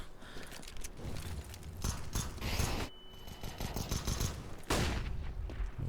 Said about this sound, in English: Renovatino rattling off a few bullets.